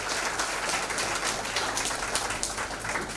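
Steady, dense applause from a seminar audience fills the whole moment, a fairly soft continuous wash of many hands with no voices over it.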